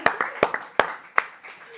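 A few scattered hand claps from a small group cheering on an Overwatch 2 player at a college esports placement match, sharp and close, with voices talking and calling out over them.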